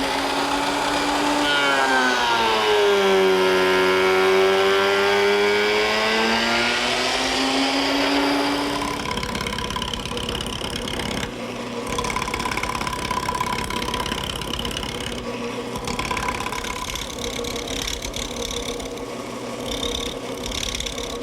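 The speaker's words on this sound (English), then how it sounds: "as the piece passes through the planer, both the top and bottom edge will become parallel" A surface planer feeds a wooden board through, opening with a loud motor whine that rises and falls in pitch, then settling into a rough, steady roar of cutting, close and continuous with a few brief dips.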